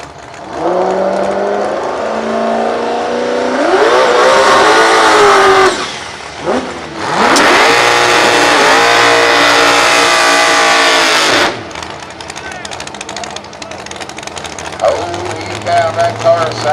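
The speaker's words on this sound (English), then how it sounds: "That car Salisbury sure does a wild burnout here." A big-tire drag racing car named Salisbury does a wild burnout in the burnout box, the engine screaming at high revs in long sustained bursts with tire roar, a brief drop between pulls, then settling to a lower idle rumble.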